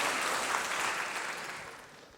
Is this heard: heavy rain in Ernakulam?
no